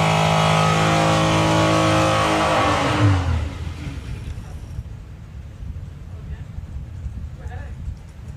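Vauxhall hot rod drag car roaring hard down the strip, a loud sustained engine wail for about three seconds that then drops away to a distant, fainter rumble amid crowd noise.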